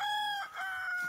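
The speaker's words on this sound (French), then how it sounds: "On entend le bruit des coqs." A free-range rooster crows loudly and close, a sustained tonal call with a brief break partway through, with no talk over it.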